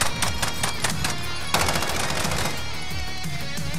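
Machine gun suppressing fire in Warzone 2, loud sustained automatic bursts of rapid shots rattling close, with a brief pause and then more firing, almost no talk.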